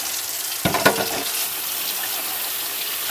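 A brief burst of tap water splashes over parts from a mid-1950s Bersted Zero 1250R electric fan being rinsed, lasting about half a second before fading to quiet background hiss.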